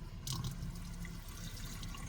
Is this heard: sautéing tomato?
no